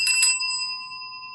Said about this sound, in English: let me ring the bell for you